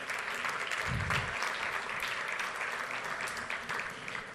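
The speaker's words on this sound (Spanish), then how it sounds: "Un aplauso para el amigo acá." Audience applause for a participant at a Spanish-language economics and commerce conference, steady mid-level clapping throughout with a low thump near the start.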